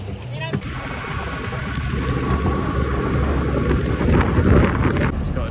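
Boat engine rumble and wind buffeting over open water off Italy, a steady broadband roar with voices talking underneath.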